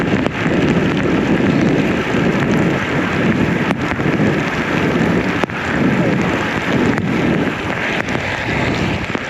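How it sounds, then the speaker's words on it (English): Heavy rain and wind roar continuously against a moving motorcycle rider's microphone, a dense, loud wash of buffeting noise with occasional sharp gusts and knocks, no voices. "Dude, I don't think you can see how much rain there is,"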